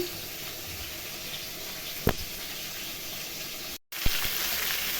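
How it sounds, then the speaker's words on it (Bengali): Fish heads washed under a running kitchen tap, a steady broadband water hiss that continues throughout, with a couple of brief clicks and a momentary gap near the end. "আর মাছের মাথাগুলো ভালো করে ধুয়ে নুন হলুদ মাখিয়ে ভেজে নিচ্ছি কড়া কড়া করে"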